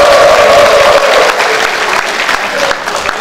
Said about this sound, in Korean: 다시 한번 초등학교 대표님께 큰 박수